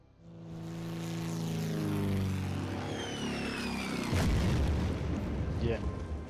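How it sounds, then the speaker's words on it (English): Attacking aircraft in the Pacific war strategy game Order of Battle: Pacific, a loud rising and falling engine roar sweeping past, then a heavy booming explosion with rumbling aftermath, with talk heard underneath. "those planes are all attacking this"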